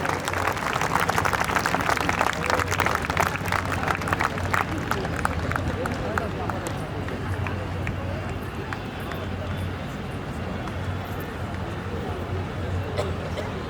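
Guests at the Shakti Swarupa Samagam 2024 gathering in Raigarh are greeted with crowd clapping that is strong at first, then thins and fades under a murmur of voices and amplified talk.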